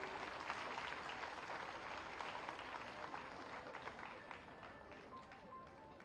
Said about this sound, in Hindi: आप सभी की जोरदार तालियां अपेक्षित हैं।